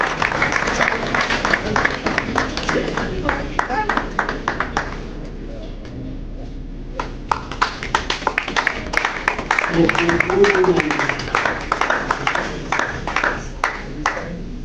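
Applause from a graduation audience at a skills academy ceremony, bursts of sharp clapping from many hands that dip into a brief lull and then return strong, with voices and a few cheers underneath.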